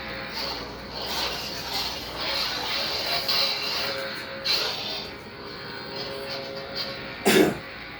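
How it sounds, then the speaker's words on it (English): Faint coughing breaks out a few times during a staff training session, with a sharper, louder cough near the end, over a quiet background of movement and room noise. "started to kind of cough"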